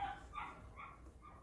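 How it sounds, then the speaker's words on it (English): A dog barks a few times from outside, muffled and set back from the microphone, in short yelping bursts with a steady low background hum. "Sorry for the dog in the background."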